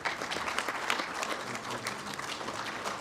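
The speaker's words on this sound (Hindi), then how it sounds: "तालियों के साथ स्वागत करें मंत्री" A seated audience claps to welcome India's Union Minister Anurag Thakur at an inauguration ceremony. The applause is steady and fairly quiet. It is made of many dense, overlapping hand claps that stay even throughout.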